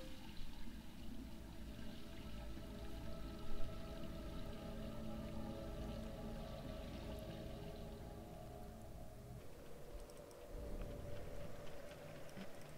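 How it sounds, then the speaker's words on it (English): Water pours and fills steadily during a puzzle in The Room 4: Old Sins, a continuous close splashing stream that shifts in tone near the end before trailing off. "Let's bring the water here."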